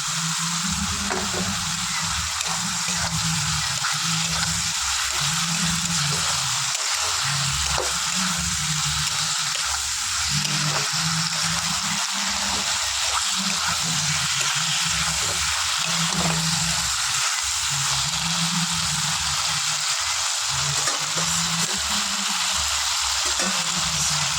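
Fried okra and potato sizzling steadily in a pan, a continuous loud frying hiss with rhythmic stirring and squishing underneath, no talking.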